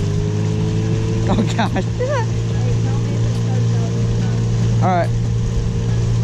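A motorboat churning over waves while wake surfing, with its engine droning loud and steady throughout and water rushing under the hull; someone speaks briefly over the noise.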